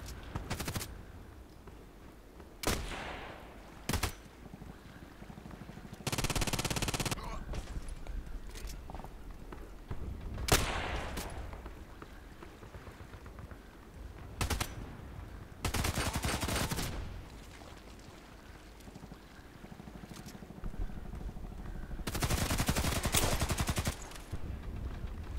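Gunfire from a small weapon in the shooter game Contract Wars, scattered sharp shots and several longer automatic bursts, some near and some farther off, with faint footsteps between them.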